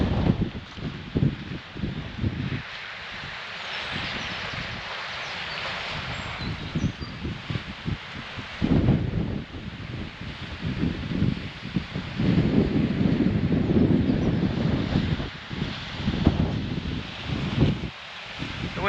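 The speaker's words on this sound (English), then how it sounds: "wind's going to be an issue today" Wind blowing outdoors at an exposed coastal fishing spot on a day with an easterly wind, a steady broadband rush with gusts that swell and buffet the microphone through most of the clip.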